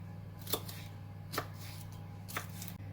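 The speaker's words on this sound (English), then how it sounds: "I'm also cutting my vegetables, so the capsicum or peppers, as well as the onion, just into thin strips" A knife slicing capsicum and onion into thin strips on a board gives three sharp, separate cuts spaced about a second apart, close and clear over a steady low hum.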